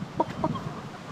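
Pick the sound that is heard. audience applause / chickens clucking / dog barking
chickens clucking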